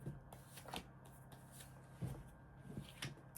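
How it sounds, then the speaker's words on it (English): Crisp riffling and slapping of a tarot card deck being shuffled several times, close up, with soft pauses between bursts. "I'm going to do a couple more shuffles."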